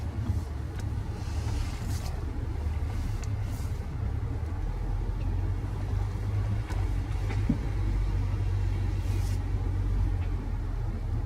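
A Land Rover Discovery on an off-road test drive produces a steady, deep engine rumble heard from inside the cabin, with occasional knocks and bumps from the rough ground.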